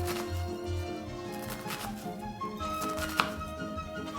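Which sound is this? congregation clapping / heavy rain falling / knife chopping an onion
knife chopping an onion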